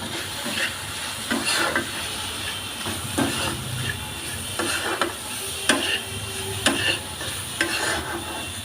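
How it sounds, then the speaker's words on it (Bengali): Nuts, coconut filling and semolina fried in ghee are stirred together in a wok, with a steady run of scraping spoon strokes and soft clinks, fairly quiet and without talk. "বাদাম দিয়ে ভালো করে একসাথে মিশিয়ে নেব"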